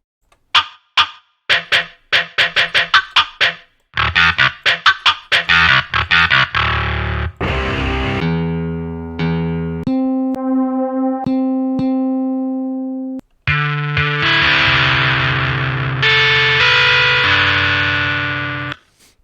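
Processed tones come from the Hardcore guitar distortion effects plugin in FL Studio 20. First come rapid choppy staccato bursts, then sustained distorted and tuned tones, then another run of stuttering loud chunks. The sound is loud and has no talk over it.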